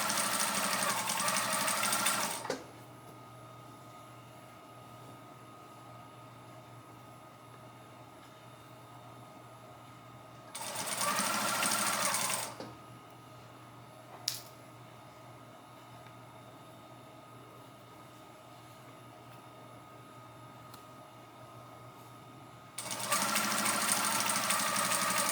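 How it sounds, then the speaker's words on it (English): Home sewing machine stitching a fleece sherpa blanket, running in three loud, steady bursts of rapid motor whir with quiet gaps between them, alone with no talk. "and I'm going to sew. Again, I make sure my fabric is lined up before it gets to the presser foot."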